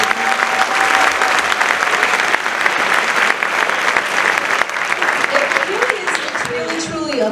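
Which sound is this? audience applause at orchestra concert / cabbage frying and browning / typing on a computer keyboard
audience applause at orchestra concert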